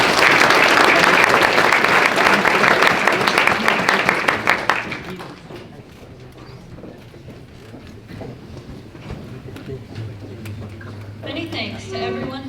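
Loud audience applause fills a room at the 2024 Celina FFA banquet, sustained clapping for about five seconds before dropping off to a quieter room murmur with scattered noise.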